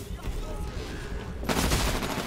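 Gunfire from the video game Titanfall, including a smart pistol, crackles in a dense fusillade of rapid shots that grows louder midway, with a voice talking over the action.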